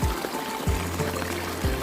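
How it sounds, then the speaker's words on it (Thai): Rainwater pours and splashes steadily out of a drain outlet, with a few heavier gushes breaking through the continuous flowing rush. "น้ำไหล"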